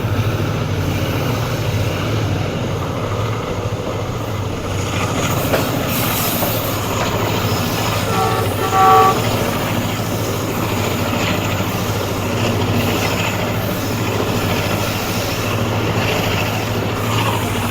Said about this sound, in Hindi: यहाँ पर भी एक अदर कोल ट्रेन को ओवरटेक कर रहे हैं हम लोग।